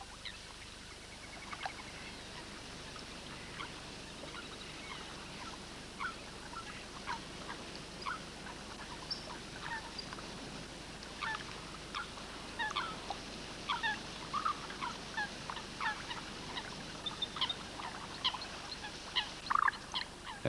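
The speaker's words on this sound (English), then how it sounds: "The familiar moorhen takes its chicks foraging amid a dense carpet of duckweed." A moorhen with chicks forages in a dense carpet of duckweed on a pond, with soft, scattered high clucks, peeps and small ticking calls over a quiet outdoor background.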